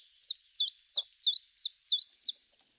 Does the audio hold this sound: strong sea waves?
no